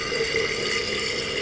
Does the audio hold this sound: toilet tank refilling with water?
yes